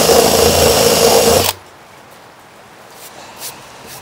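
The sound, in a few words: drilling with a too-small drill bit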